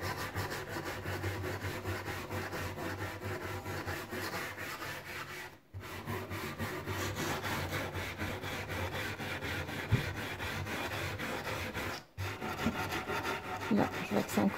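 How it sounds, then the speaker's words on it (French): Dirt is scrubbed off an old wooden kneading trough with a cleaning product, making a steady, close, rasping back-and-forth rubbing that stops briefly twice and then resumes. "Et du coup, je frotte et je ramène plein de crasse."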